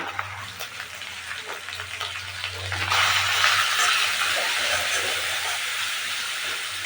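Ground coriander, cumin and turmeric fry in a pan with a low, crackling sizzle that swells louder and hissier midway through, with occasional stirring and a faint low hum in the background.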